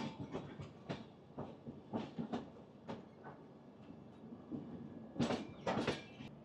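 An Indian passenger train from Vapi to Nashik runs over the track while changing lines, giving irregular clanks and clicks from the wheels, heard from inside the coach over a low rumble.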